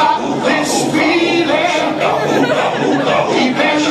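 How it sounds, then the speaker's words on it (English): Wedding guests cheer and applaud loudly at a reception as the newlyweds are welcomed onto the dance floor for their first dance. The dense, steady crowd roar lasts the whole stretch, with excited shouts rising through it. "let's give them one more big round of applause and welcome them to the dance floor"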